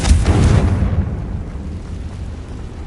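In Hogwarts Legacy, the Confringo spell bursts with a loud, booming explosion up close, its heavy low rumble decaying steadily over about two seconds with no voices.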